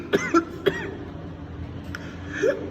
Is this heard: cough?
yes